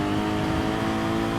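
A Lexus Gr4 race car engine in GT Sport drones steadily at high revs, a loud, continuous close-up whine with no pause.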